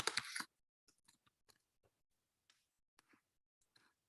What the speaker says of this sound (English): my chewing was that loud